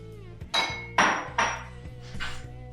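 Dry ingredients of flour, sugar and baking powder mixed in a bowl, heard as a few loud clinking, scraping strikes of a utensil against the bowl at an uneven pace, close up with no talking.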